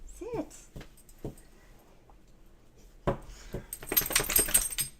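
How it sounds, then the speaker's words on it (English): A pet dog barks and yips in short sharp bursts, a few isolated barks early on, then a louder, denser flurry near the end, with faint whimpering and some household noise in between. "She is being a little pest this morning with all her barking."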